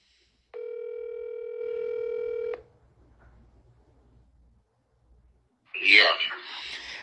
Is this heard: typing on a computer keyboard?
no